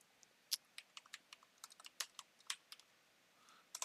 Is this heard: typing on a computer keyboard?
yes